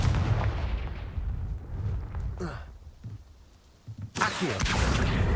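A Confringo fire spell goes off in a video game with sharp blasting bursts, loud and close, separated by a quieter gap; a voice is heard briefly.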